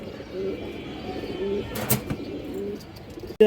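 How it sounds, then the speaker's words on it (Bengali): A big khaki male pigeon coos softly in low, rolling phrases, close by, with a brief flutter or rustle midway and a sharp knock at the end. "খাকি নর কবুতর"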